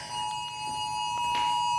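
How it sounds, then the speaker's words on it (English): A tornado warning emergency alert tone sounds during severe storms in North Alabama, a steady high electronic beep held continuously at moderate volume with faint background noise. "we're gonna shut all these alarms off as we get them"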